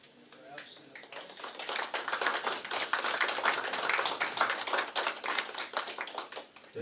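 Audience applause at a Micronesia Clean Up Day award ceremony, a dense, steady wash of many hands clapping that swells and holds loud throughout, with some voices mixed in.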